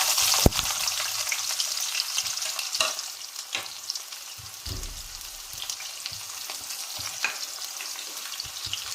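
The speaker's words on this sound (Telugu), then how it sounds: "ఎర్రగడ్డలు కొంచెం వేగాక" Onions with mustard seeds frying in hot oil in a pan for an eggplant curry, a steady fine crackling sizzle with occasional stirring clicks and scrapes, close and alone.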